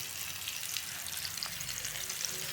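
Kalmas frying in a masala of ground chili, garlic, vinegar and curry leaves, a steady bright sizzle with crackling pops throughout, close and continuous, no talking.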